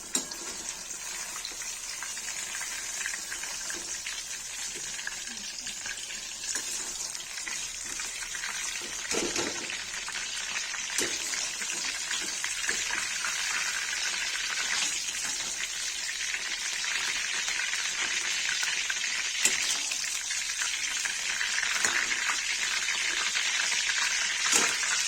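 Eggplant and potato pieces fry in hot oil in a pan for Kashmiri paneer curry, a continuous loud bright sizzle holding steady throughout with occasional faint clinks, no talking.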